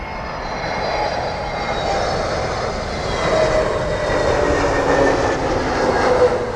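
A jet airliner roars past at London Heathrow airport, a loud sustained engine rumble with a whining tone that swells slightly as it passes, with no talking.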